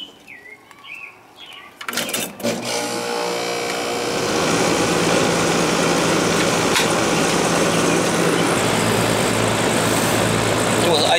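A 410A refrigerant air conditioning unit in a building powers on after a couple of seconds of quiet with faint birdsong, then settles into a steady, loud mechanical hum and whir that continues unbroken.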